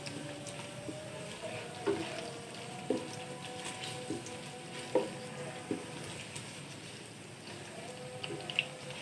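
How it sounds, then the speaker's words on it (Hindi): Chicken fries in oil with garlic-ginger paste, a soft, steady sizzle with faint stirring taps and scrapes at a moderate distance, no talking. "अब हम चिकन को फ्राई कर रहे हैं।"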